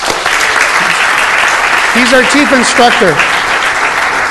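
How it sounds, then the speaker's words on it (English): Audience applause at a city council meeting fills the room as a dense, steady wash of clapping, with someone speaking over it partway through. "if I can get a round of applause"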